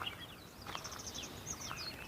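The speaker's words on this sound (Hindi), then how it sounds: "इन चिड़ियों को देखना है, इन चिड़ियों की आवाज़ों को सुनना है।" Small birds chirp and call at a quiet nature spot beside a flowing waterfall, a string of faint, high, scattered notes over a soft steady background hush.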